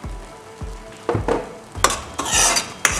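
Makhana kheer is stirred in a pot, with a spoon clinking and scraping against the metal in several distinct strokes over a soft bubbling simmer.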